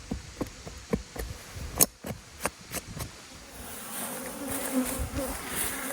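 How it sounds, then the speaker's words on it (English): Robbing bees buzz around a hive, a near swarm of droning with sharp taps and knocks at first, then a steadier, denser hum filling the air. "Bees sniffing around this hive and this one and this one."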